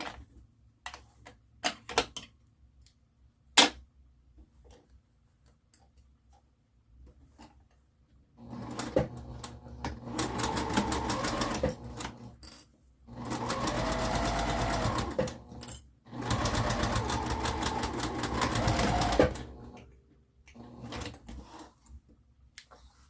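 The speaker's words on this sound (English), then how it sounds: "by sewing the first side of the cube with the last side of the cube." A sewing machine stitches the sides of a fabric cube pincushion, running in two long steady whirring bursts after some scattered clicks and handling taps, close and fairly loud.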